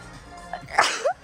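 A single person sneezes once, a quick inhaled build-up ending in a sharp, fairly close burst, with faint room background and no talking.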